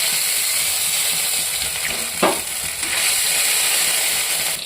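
Ginger sizzles in hot oil in a wok alongside dried chilli, bay leaf and cumin, a steady loud frying hiss with a brief stir or clatter partway through.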